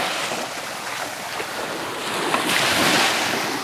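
Sea waves wash onto Klong Prao beach on Koh Chang, a continuous broad hiss of surf with wind buffeting the microphone, swelling slightly louder near the end.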